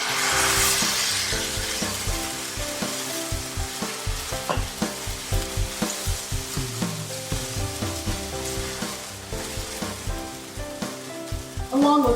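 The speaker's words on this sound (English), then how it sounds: "Now I'm adding the tomato paste." Tomato paste sizzles and fries in a hot pan for pizza sauce, with steady crackling and intermittent stirring scrapes, close and fairly loud, without talk.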